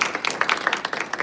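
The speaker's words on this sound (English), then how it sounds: "just give a big round of applause" Audience clapping at a Sathya Sai Center gathering, a brief burst of close applause with irregular overlapping claps.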